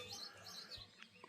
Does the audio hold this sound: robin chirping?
yes